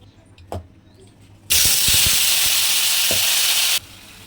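Tomatoes drop into a hot pan and burst into a loud, steady sizzle lasting a couple of seconds, preceded by quiet kitchen background and a brief clatter, then cutting back to near quiet.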